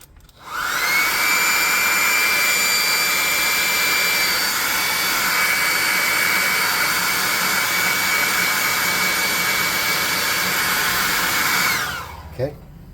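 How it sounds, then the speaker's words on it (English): A hot air gun blows over a freshly painted tabletop ruins terrain model, a loud, steady whooshing roar with a constant whine that starts abruptly, holds for about eleven seconds, then cuts off, followed by a small clunk. "I'm going to hit it with the +2 hot air gun burner real quick."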